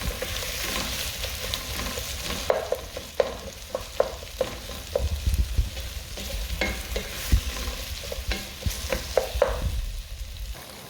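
Potato and onions frying in a pan while being stirred, a steady sizzle running throughout with irregular scraping strokes of the utensil growing busier toward the end.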